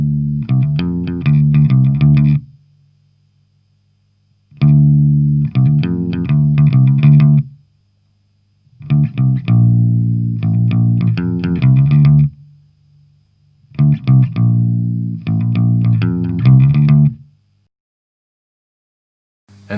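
An electric guitar played through an amp with 4x12 speakers sounds distorted, with chorus, in four loud, close, riff-like phrases of about three seconds each, separated by short silences.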